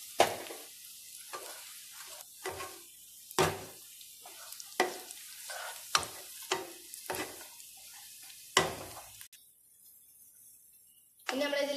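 Onions, peanuts and raisins frying in a pan for quail biryani, with a series of separate stirring scrapes and sizzling bursts over a steady hiss, ending in a louder continuous sizzle.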